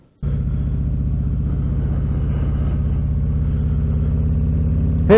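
A motorcycle engine starts abruptly and settles into a loud, close, steady low rumble with a throbbing pulse, holding even for several seconds before a short louder burst at the end.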